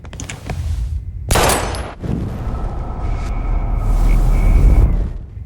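A gun fires in Life Is Strange: a single sharp, loud crack rings out early, set against tense low game ambience that rumbles on afterward.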